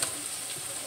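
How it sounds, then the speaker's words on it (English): Onions sizzling and frying in a hot pan for a Caribbean curry chicken dish, a steady close hiss with light crackle throughout. "So I add my onions on there"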